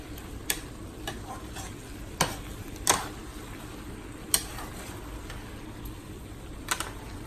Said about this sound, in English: right now I'm just flipping my shrimps to make sure that they're all cooked